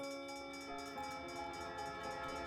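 Train passing a small railway junction just over the border into Oklahoma, staged as a radio drama effect: a steady, fairly quiet rolling rumble with sustained tonal ringing over it, no voices.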